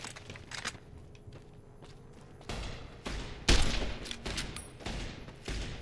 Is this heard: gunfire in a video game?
yes